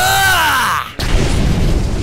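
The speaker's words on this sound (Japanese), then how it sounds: "狙い通り手榴弾は遠方で爆発する。" A hand grenade explodes in the distance with a deep, rumbling boom, set in an anime-style fight scene and preceded by a sweeping whoosh.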